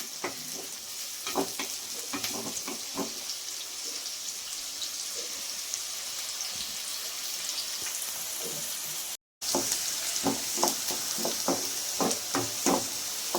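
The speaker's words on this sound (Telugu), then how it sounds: "హైలోనే పెట్టుకొని బ్రౌన్ కలర్ వచ్చేంత వరకు వేయించుకోండి." Onions frying on high heat until browned hiss steadily with scattered pops and crackles, close and moderately quiet, cut by a brief moment of silence partway through.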